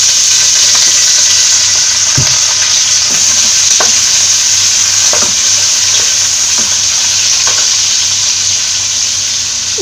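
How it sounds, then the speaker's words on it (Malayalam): Onions dropped into hot oil fry with a loud, dense, constant sizzle close by, broken by intermittent stirring scrapes spaced a second or two apart. "ഇതിലേക്ക് സവോള ഇട്ട് കൊടുക്കാം."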